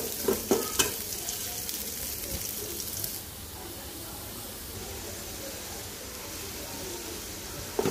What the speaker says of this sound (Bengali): তো এখন শুকনো মরিচ আর পেঁয়াজ রসুন দিয়ে বাগার দিয়ে দিব।